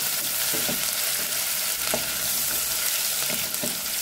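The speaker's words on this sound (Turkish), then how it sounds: "Küp küp doğradım soğanları atıyorum tencereme." Diced onions fry in a little hot oil in a cooking pot while being stirred, a steady loud sizzle with soft scraping stirs at intervals, close up and without talk.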